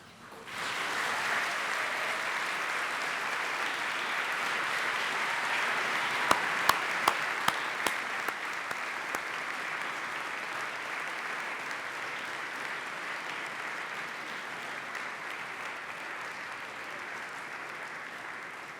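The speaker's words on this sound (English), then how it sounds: "Now it's your chance to applaud your family, your friends, and your loved ones for all the support that they have shown you." At a University of Manchester graduation ceremony, a large audience applauds families and friends, sustained even clapping for nearly twenty seconds with a few sharp louder claps partway through before gradually thinning.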